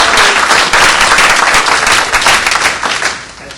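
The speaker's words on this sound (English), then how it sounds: "Let's take a minute to give Colleen and the members of the staff here a round of applause." Sustained audience applause for a staff member and her team at a real estate agent training seminar, dense and loud throughout, tapering off slightly near the end.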